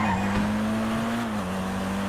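A jeep driving in a Civil War roleplay video game, with a steady droning engine hum and a faint tire-skid hiss, loud and continuous.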